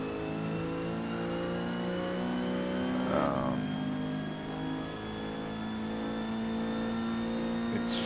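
Renault 8 Gordini engine in the Forza Motorsport racing game, a steady droning hum that holds, shifts briefly mid-way, then climbs again under acceleration.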